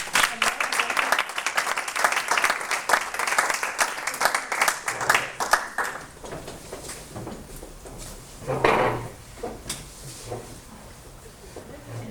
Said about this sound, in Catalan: Un fort aplaudiment per ella.